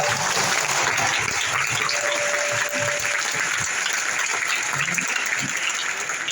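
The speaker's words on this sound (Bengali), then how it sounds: "আমরা এরপরে আরো একটু জোরে করতালি দেব ইনশাআল্লাহ।" Dense, sustained applause from an audience at a company meeting, a steady wash of many hands clapping at once that holds its loudness for the whole stretch.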